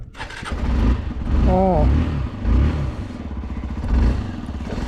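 A Hero Xpulse 200 motorcycle engine sputters and catches into a low, uneven rumble on a cold start in Ladakh, with people talking over it.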